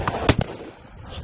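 Shotgun fired at a partridge shoot at Warter Priory: a sharp, close bang followed a split second later by a second crack, then low outdoor ambience.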